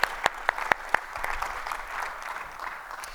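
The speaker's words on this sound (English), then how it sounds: "I want to actually do a quick clap on everybody on the room for that" An audience in a conference room breaks into applause, a few sharp separate claps at first that quickly merge into a short, moderate burst of clapping that fades out.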